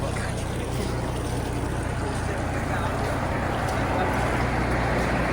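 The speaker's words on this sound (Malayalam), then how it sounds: "എഞ്ചിന് കാണിച്ചു തരാൻ പോണ കേട്ടോ നല്ല ശബ്ദമുള്ളതുകൊണ്ട് പറയുന്നൊന്നും കേൾക്കൂല" A boat engine roars steadily and loudly, a constant low drone with wind-like rush throughout.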